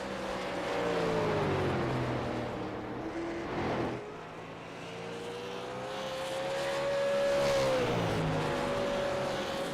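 Race car engine in the iRacing sim during the Snowball Derby, a steady droning roar whose pitch slides down through corners and climbs again on the straights, heard alone at moderate level with no talk.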